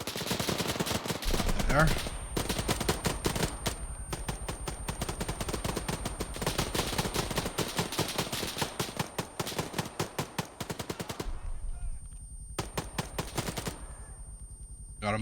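Gunfire rattles through the Arma 3 military video game. Dense, loud bursts of automatic fire and rapid single shots run almost continuously, then thin out near the end, with a brief spoken line over the shooting.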